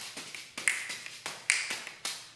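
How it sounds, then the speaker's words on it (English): Finger snaps repeated in a quick steady rhythm amid soft taps and catches of juggled objects, crisp and close with no talking. "I can even snap my fingers"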